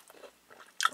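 Crunchy bite into pan-fried smoked pork belly bacon, crisped in a little cooking oil, with a quiet start and one sharp, close crunching burst near the end.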